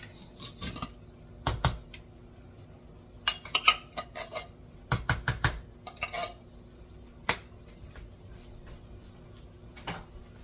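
A can of cream of mushroom soup emptied into a pan for hamburger stroganoff, heard as scattered close clanks and scrapes of metal and utensils, with short bursts and quiet gaps between them.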